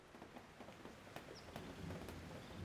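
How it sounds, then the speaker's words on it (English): Rain falls on a cabin during a thunderstorm, a soft, steady patter with a few sharper drops or taps standing out, faint and close, with no voices. "The rain is falling on the cabin. The thunderstorm is here."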